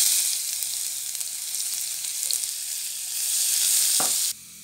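Chicken pieces for sweet-and-sour pineapple chicken fry in oil with a loud, continuous close-up sizzle, a brief clink near the end before the sound drops away.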